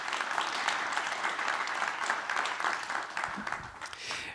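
Audience applause for three panelists at an academic session on religious approaches to ecology, steady dense clapping throughout, fairly close and even, with no talk over it.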